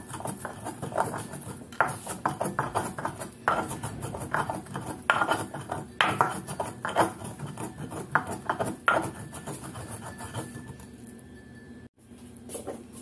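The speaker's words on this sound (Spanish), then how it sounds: "Estos tres ingredientes comenzaremos a molerlos." Chiltepin chile, salt and another ingredient being ground in a stone molcajete: continuous scraping and gritty knocks of the pestle, with irregular louder grinds over about thirteen seconds, fairly close, with no talking.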